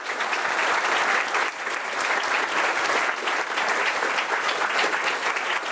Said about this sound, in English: So can we just give our speakers a round of applause